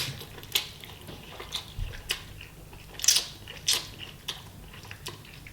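Someone chews a mouthful of Nongshim Neoguri spicy seafood instant noodles with seaweed, up close. The crunchy, wet bites come as scattered clicks and squelches with short pauses between them, and no one speaks.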